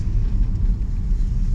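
A four-cylinder car on a test drive, recently fixed with new fuel injectors and plugs and still carrying a transmission problem, gives a steady, close low rumble of engine and road noise with no pauses.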